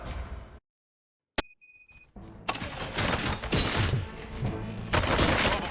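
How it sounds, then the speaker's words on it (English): Silence, then a sharp crack with a ringing tone, followed by repeated bursts of gunfire that grow denser and louder, in RoboCop: Rogue City. "Gunshots? What's going on?"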